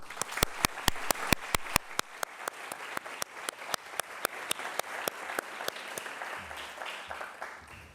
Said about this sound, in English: I propose a round of applause to all the students that participated to this forum